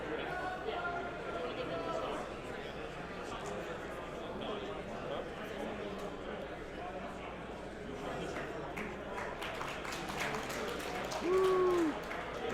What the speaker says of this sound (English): They were clapping over there.